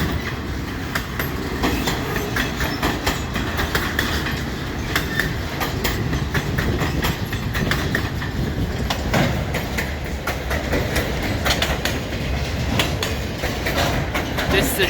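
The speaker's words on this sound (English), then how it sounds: "This train must be departing or something." Freight train rolling past milepost 75 on the Dundas Subdivision near London, Ontario, a loud continuous rumble with rhythmic clickety-clack of wheels over rail joints throughout, close by and steady.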